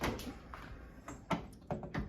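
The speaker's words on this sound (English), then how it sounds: "Hang the door back up." A few light clicks and knocks of a Frigidaire microwave door being hung back into place, quiet and close, spaced irregularly.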